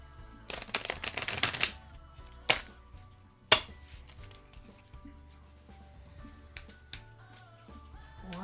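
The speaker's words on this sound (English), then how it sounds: "give this a good shuffle here" Rapid riffling bursts of cards being shuffled, a few quick flurries followed by sharper single snaps, fairly close with quiet room sound between.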